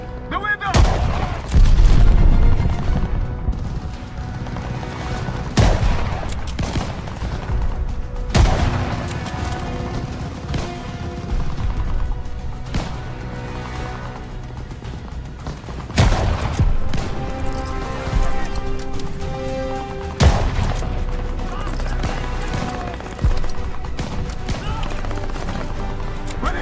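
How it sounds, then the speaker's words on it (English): Call of Duty Vanguard gameplay brings loud, dense gunfire: rapid volleys and single cracks keep going among booms and mechanical clatter throughout a tense urban firefight. "We're getting shot from above!"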